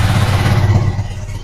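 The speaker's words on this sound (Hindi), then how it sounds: "बाकी एक बार मैं इसका साउंड सुना देता हूँ आपको, ठीक है, साउंड कैसा आता है इस बाइक का।" KTM Duke 390 motorcycle engine and exhaust rumbling loud and close in a steady low drone, easing slightly toward the end, with no talk over it.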